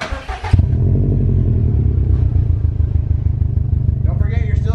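A 2019 Subaru STI fitted with an Invidia R400 catback exhaust idles with a deep, steady burble, close and loud after a short burst of voices at the start, with people talking again near the end.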